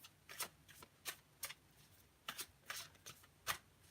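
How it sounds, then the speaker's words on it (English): Tarot cards are shuffled in quick, soft bursts of riffling, close and quiet, with short pauses between each pass. "Last 3 shuffles, or I will pull a card"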